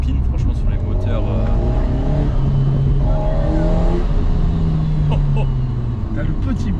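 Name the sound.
Alpine A110 engine sound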